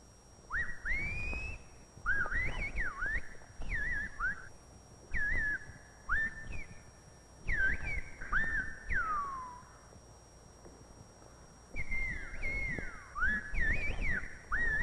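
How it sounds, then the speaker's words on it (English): Silbo Gomero whistled speech from La Gomera: a series of sharp, pitch-gliding whistles in short phrases, rising and falling and separated by brief pauses, clear and fairly close. "the Gomeras contrived an extraordinary form of telephonic speech, whistling"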